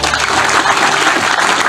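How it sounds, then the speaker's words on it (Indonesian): Audience applause for two groups at an evening gathering, a loud, dense wash of many hands clapping close by, steady for the whole short stretch. "tepuk tangan untuk dua kelompok"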